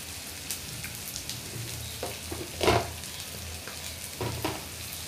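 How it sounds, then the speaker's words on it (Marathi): Spices sautéed in a pan with a pinch of asafoetida for Maharashtrian zunka: steady soft sizzling with scattered scraping stir sounds and one louder burst near the middle, no talking. "परतून घेऊया व्यवस्थित"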